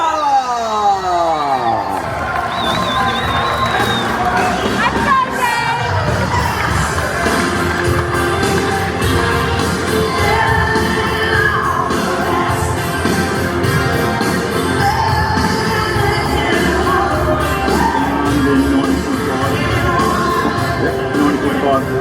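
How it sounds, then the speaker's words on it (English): A large crowd cheers, whoops and yells for boxer David Nyika at a Gold Coast weigh-in, a loud, unbroken roar of many voices lasting over twenty seconds. "Let's have a round of applause, everybody, for David Nyika!"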